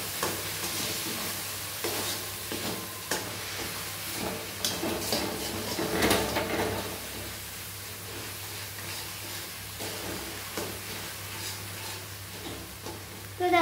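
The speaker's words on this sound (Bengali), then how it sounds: "তো দেখো এই পেঁয়াজের পেস্টটা দিয়ে আমি ভালো করে এটাকে আবার একটু ভেজে নেব।" Onion paste with ginger and garlic fries in a kadai for palak paneer, a steady close sizzle and hiss with repeated scraping stirs of a spatula throughout.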